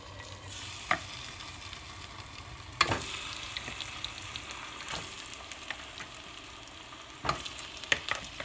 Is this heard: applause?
no